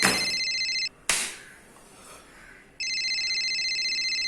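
An electronic phone ringtone trills loudly, stops briefly after a click, then resumes its repeating ring pattern.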